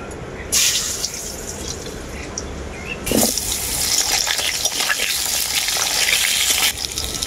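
Cut potato strips fry in oil in a pan for a bitter gourd dish, a steady close sizzle with crackling bursts and a louder rise partway through.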